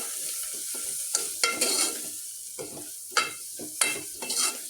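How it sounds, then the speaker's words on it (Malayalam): Garam masala being stirred into ground spices frying in oil for a chickpea curry: close, repeated scraping strokes of a spoon in the pan over a soft, steady sizzle, with no voices. "ഇത് ഗരം മസാലയാണ്. ഒന്ന് ഇളക്കി കൊടുക്കാം."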